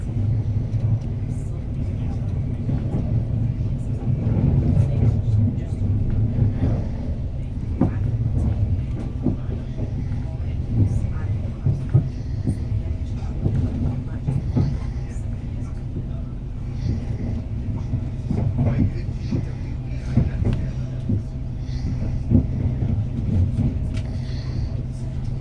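A TransPennine Express train pulling into Leeds station, a steady low rumble and drone of the train and its wheels heard from inside, with faint clanks and rattles throughout.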